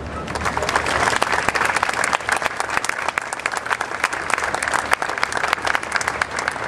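A crowd applauds the organizers of a week of West Virginia Day events in Wheeling, with steady, dense clapping sustained throughout and a few sharper individual claps standing out.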